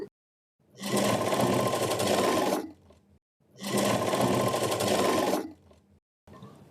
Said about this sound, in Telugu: ఫస్ట్ అయితే ఒక స్టిచ్ వేసుకుంటున్నాను